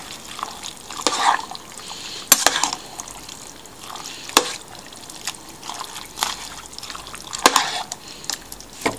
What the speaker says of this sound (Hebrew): אני מערבבת את הכל